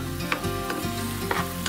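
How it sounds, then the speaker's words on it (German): A morel dish simmering in a pan on a gas grill sizzles and bubbles steadily, broken by a few short stirring scrapes and clinks. "Und jetzt kann das Ganze noch mal ein bisschen vor sich hin köcheln."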